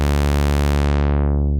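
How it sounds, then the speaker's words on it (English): A sustained buzzy synthesizer tone is passed through a low-pass filter whose cutoff sweeps steadily downward, so the sound grows darker and duller over under two seconds, loud and alone. "You turn the cutoff down and it gets darker."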